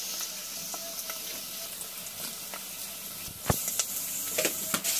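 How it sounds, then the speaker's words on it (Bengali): Cinnamon sticks and cardamom pods fry with onions in oil, a steady moderate sizzle with scattered spoon clinks and scrapes that grow busier toward the end. "পাঁচ ছয়টা দারচিনি এবং এলাচি দিয়ে দিলাম, দিয়ে একটু ভেজে নিচ্ছি।"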